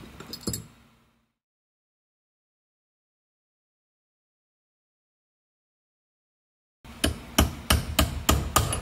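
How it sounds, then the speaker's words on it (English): A hammer strikes a punch to bend over a locking tab during reassembly of a Bridgeport milling machine step pulley, with one metallic tap at the start, a long silence, then a quick series of sharp, ringing close blows. "hammer and our punch."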